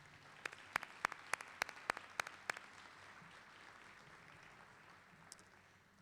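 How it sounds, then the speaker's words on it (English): Brief burst of clapping from a small audience at a college commencement ceremony, a handful of sharp claps in the first three seconds fading into quiet room tone. "Please join me in a round of applause to thank them for their contributions to Jefferson College."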